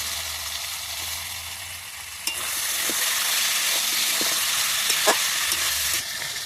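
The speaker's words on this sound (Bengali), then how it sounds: "বাকি মশলা বাটাটা ছিল আমি এর মধ্যে দিয়ে নেব দিয়ে ভেজে নেব পেঁপেগুলো দিয়ে দেবো এর মধ্যে" Papaya pieces fry in spice paste in a pan with a broad, steady hiss and occasional crackling pops, a dull knock breaking in partway through as the sizzle grows slightly louder.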